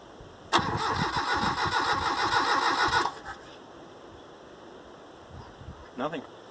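A 1994 Mitsubishi Triton's engine cranks loudly for about two and a half seconds with a rapid rhythmic starter churn, then cuts out without catching; a voice speaks briefly near the end.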